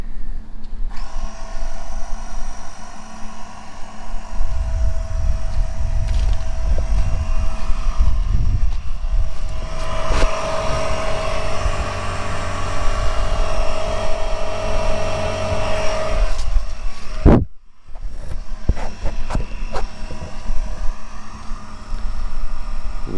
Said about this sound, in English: Let's put some air in this. Firestone airbags, airlift wireless 1 compressor.